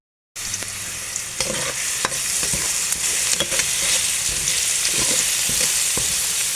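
Garlic and onion sautéing in a pan as the base for goto, a constant close sizzle broken by repeated sharp scrapes and taps of a utensil, with no talk.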